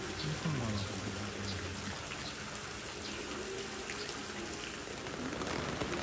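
Steady rain pours down outdoors at a bear enclosure, a constant dense hiss of drops on surfaces with no breaks throughout.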